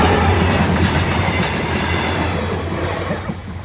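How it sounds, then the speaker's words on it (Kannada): A metro train rolls past close by near Jnana Bharathi metro station, a loud steady rumble with rhythmic clatter of wheels over the rails that slowly fades. "ನೋಡ ಬನ್ನಿ, ಟ್ರೈನ್ ಬರುತ್ತೋ ಇಲ್ವೋ."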